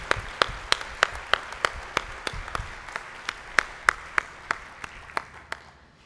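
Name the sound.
audience applause at a luncheon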